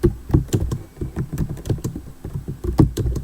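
Typing on a computer keyboard: rapid, uneven clicking keystrokes in a close, continuous run, crisp and fairly loud, with no voices.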